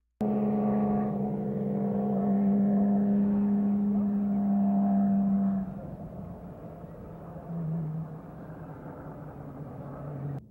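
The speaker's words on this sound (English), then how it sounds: "These two Porsches are being very careful." Porsche race cars moving cautiously on a wet track in the rain, a steady engine drone with a sustained tonal hum that drops off midway, leaving a quieter low rumble and a brief swell before the end.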